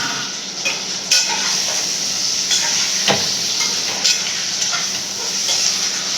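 Tomatoes sautéed with onions in a pan for paneer biryani give a continuous close sizzle and hiss, broken by soft scrapes and clicks of stirring at irregular moments, with no one talking.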